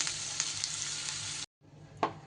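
Onions fry in a pan with a close, even hiss of oil, briefly cut off, then resuming more quietly with a single sharp scrape of a utensil.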